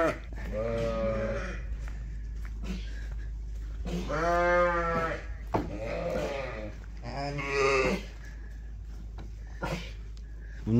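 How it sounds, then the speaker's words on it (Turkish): Sheep and newborn lambs bleating in a flock at lambing time, several separate drawn-out calls from nearby animals in a row, over a steady low hum. "dedim koyunlara bakayım burada sesler geliyor minik minik kuzular"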